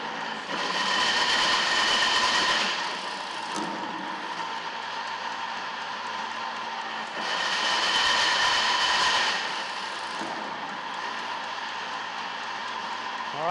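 A restored metal planer takes a coarse down-feed cut in cast iron with a high-speed steel tool, giving loud grinding strokes with a steady machine rumble between them. Two heavy cutting passes stand out above the background drone.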